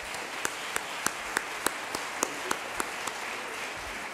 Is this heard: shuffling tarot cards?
no